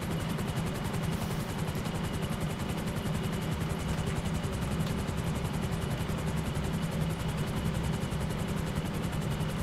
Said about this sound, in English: there's a freaking helicopter here